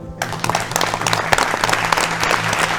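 The studio audience at an agricultural quiz show breaks into dense, sustained applause, loud and close, with many hands clapping at once throughout.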